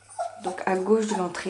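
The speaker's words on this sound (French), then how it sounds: "Excusez-moi pour le chien qui pleure." A dog whines and cries indoors in an apartment entryway, its thin plaintive whimpering partly buried under a person talking close by.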